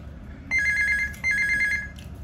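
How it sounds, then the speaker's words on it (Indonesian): Telephone ringing in a hotel room during quarantine: two bursts of a bright electronic double-tone ring, loud and close against a quiet room hum, with no talking. "Telepon ya."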